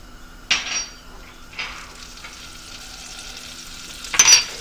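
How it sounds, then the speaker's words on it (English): Butter melts and sizzles in a pot over medium-low heat for asparagus soup, a steady soft frying hiss broken by a few louder metallic scrapes and clinks of a utensil against the pot. "Go ahead and add in our butter and get that melted."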